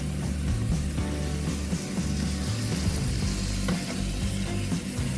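Bottle gourd and vegetables stir-frying in a pan, a loud continuous sizzle with scraping and stirring noises throughout.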